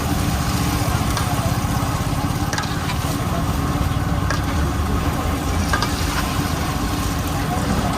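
Vada pav frying in a big pot of hot oil at a busy street stall in Shirdi, giving off a steady, dense sizzle with a low rumbling burner underneath and faint background chatter.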